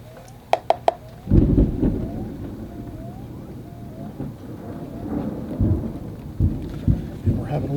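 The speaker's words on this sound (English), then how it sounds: "we're having a little bit of a thunderstorm here" Thunderstorm outside a watercolor painting session, steady rain hiss with a deep rolling thunder rumble that swells and lingers, plus scattered sharp clicks and faint background bird chirps.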